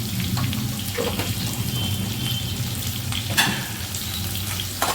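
Mushrooms sauté in a pan with a light pinch of salt, giving a steady close sizzle and crackle, with a few stirring scrapes throughout and a brief clink near the end.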